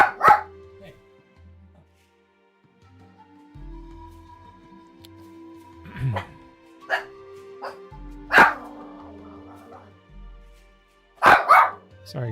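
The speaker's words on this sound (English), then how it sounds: "I think she's trying to get my attention. She's barking at me." A dog barks indoors in several sharp separate bursts spread across the stretch, loud and close, with a steady electronic hum and quiet background sounds in between.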